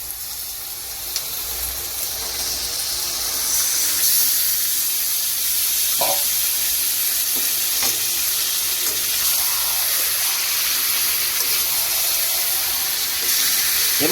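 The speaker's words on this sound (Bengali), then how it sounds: "এবার এর মধ্যে আমি ম্যারিনেটেড চিকেনগুলোকে দিয়ে দেবো।" Steady hiss and sizzle of marinated chicken cooking in a pan with softened tomatoes, a continuous frying sound with a few faint clinks, no talking.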